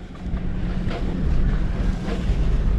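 A tinny aluminium boat out on a river, with steady water wash and rushing wind noise buffeting the microphone throughout.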